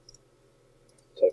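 A single sharp click near the end of an otherwise quiet stretch, close and distinct against a faint steady background hum.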